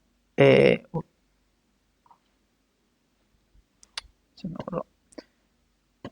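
Mouse clicks in an Excel spreadsheet while cells are selected for a formula: a few sharp, quiet clicks scattered across the clip, with bursts of Spanish speech around them.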